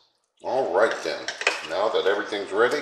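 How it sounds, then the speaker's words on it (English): A spoon stirs okra and tomatoes in a pot, making close, rhythmic metallic scraping and clinking after a brief silence. "Let's give this a good last stir"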